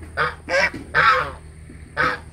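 Geese honk loudly and close in four harsh, separate calls with short gaps, a swimming pair reacting to a stranger in red clothing by a pond.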